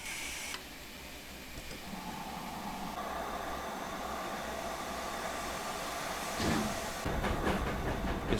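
Steam locomotive pulling wagons in the Train Sim World 3 video game on the Peak Forest Railway, a steady rumble with faint rhythmic clicking of wheels as it gathers speed, a few sharper clanks near the end.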